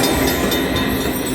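Train sound effect from the Luxury Line Cash Express slot game, a loud, steady rumble of rolling rail noise with clattering wheels, continuous throughout and heard alone.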